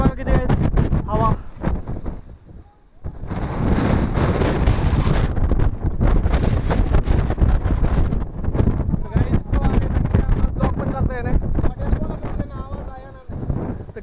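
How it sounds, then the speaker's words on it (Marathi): Strong gusting wind on a trek up Bhairavgad fort near Malshej Ghat, roaring and buffeting the microphone almost continuously, loud and close, with people talking over it. "गाईज इतकं वार येतं की आम्हाला ब्लॉगही करता येईल."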